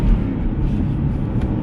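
Aston Martin Vantage with a 420-horsepower 4.7-liter V8 rumbles steadily and loudly up close, a dense low engine drone held through the whole short stretch.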